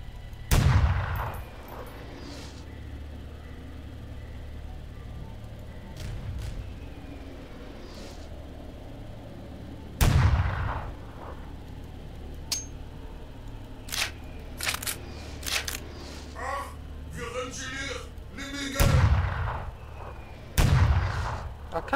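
Gunfire in the video game E.Y.E.: sharp loud shots spaced irregularly, some single cracks and some clustered bursts, over low game ambience.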